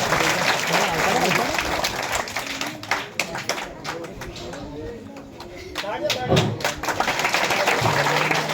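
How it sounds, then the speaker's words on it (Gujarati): A crowd at a primary school program claps in a burst of applause, irregular and mid-distance, mixed with voices and some thumps. "જોરદાર તાળીઓના ગડગડાટથી વધાવીશું આપણે."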